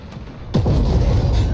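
Tank main cannon fires in Armored Warfare, one loud deep boom that rolls out into a long rumbling tail.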